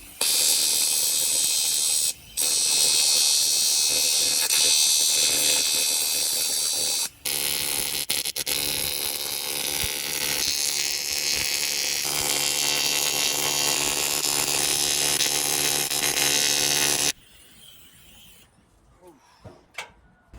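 TIG welding on an HKS GT2835R turbo, a loud continuous high-pitched buzzing hiss that runs for around seventeen seconds with two brief breaks, then cuts out, leaving faint scattered clicks.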